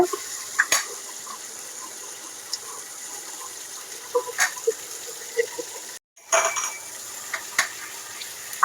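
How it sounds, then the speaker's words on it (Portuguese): Light sizzling and clinking of onion and steak frying in a pan with plenty of garlic, with occasional sharp scrapes and taps of a utensil, no talking. "E a cebola vai fritando também, junto com o bife."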